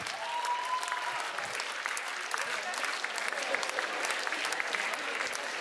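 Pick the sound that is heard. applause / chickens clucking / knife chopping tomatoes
applause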